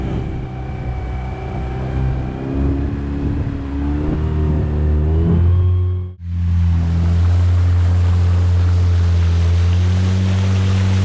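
A boat on the River Reaper's maiden voyage runs fast on a winter river, its engine a loud steady drone that climbs in pitch, drops out briefly around the midpoint, then roars back with a deep sustained hum.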